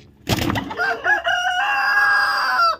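Hens cluck and squawk around a laying nest on an egg farm, with a sharp burst of calls followed by a sustained, drawn-out vocal cry, close and clear, with no talking.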